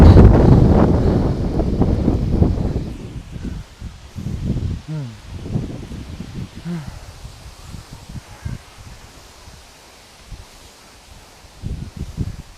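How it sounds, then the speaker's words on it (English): Wind blowing outdoors during a kettlebell and steel mace workout, strong buffeting gusts on the microphone at first that ease into softer, fluttering rumble, with breathing and brief sounds of effort. "The wind is picking up."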